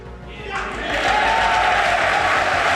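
A snooker crowd bursts into applause after the 1990 semi-final win, starting softly and swelling within a second into loud, sustained, steady clapping that fills the hall.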